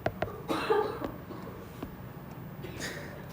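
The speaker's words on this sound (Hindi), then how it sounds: "खांस ले भाई, तू खांस ले" A person coughs a few times in short, sharp bursts during a biology test-solution class, fairly close and loud against a quiet room, with a voice briefly heard.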